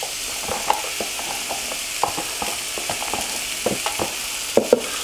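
Onions frying in a pan, a soft continuous sizzle close by with scattered clicks and scrapes of stirring throughout, no voices.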